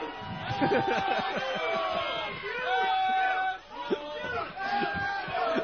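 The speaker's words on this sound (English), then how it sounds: "Do you guys realize the crowd is ruining the show?" A rowdy drunk crowd outside Fenway Park on opening day shouts and whoops in overlapping voices, loud, close babble with yells and laughter rising and falling.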